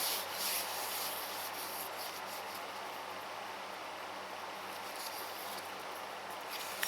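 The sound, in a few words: lapping small engine cylinder head on abrasive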